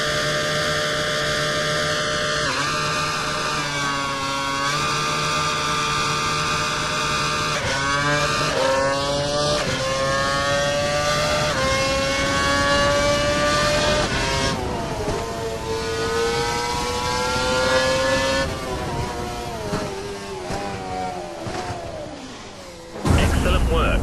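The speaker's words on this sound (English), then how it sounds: "Head down the track accelerating past 160 miles per hour, then brake so that you come to a complete stop in the designated area." An F1 2012 race car in the Young Drivers' Test, engine locked to lean mode, accelerates down a straight past 160 mph, loud engine pitch climbing through repeated gear shifts, with a voice talking over it, ending in an abrupt cut.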